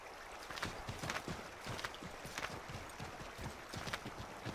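Hooves of a horse clop along in Assassin's Creed III, a fast steady run of close hoofbeats against a rough, noisy outdoor ambience.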